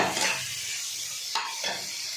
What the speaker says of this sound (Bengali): ডুমো করে পেঁয়াজ আর ডুমো করে কাটা টমেটো, লঙ্কা সব দিয়ে একটু কষে নিলাম।